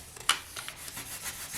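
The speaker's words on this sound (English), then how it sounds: "I'll just give the back a very light sand." Light sanding on the back of a polymer clay pendant makes a few soft, faint rasping strokes close by in a quiet setting.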